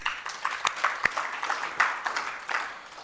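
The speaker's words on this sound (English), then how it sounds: "give you a round of applause for those submissions" A modest audience at a stakeholder roadshow gives a round of applause, fairly sparse with distinct individual claps standing out unevenly over a softer wash of clapping, nearby and without talk.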